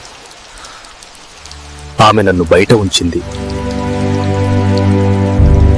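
Raindrops patter steadily across the whole stretch, with a voice speaking over the rain partway through and the rainfall continuing underneath.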